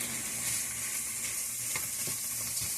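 Food sizzles steadily in a skillet while a quiche filling of ham, bacon and spinach is broken down, a constant close frying hiss with faint stirring scrapes and no talk.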